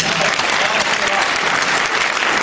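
An audience at a Hindi comedy poetry gathering in Morrisville claps in dense, sustained applause, loud and even throughout with no break.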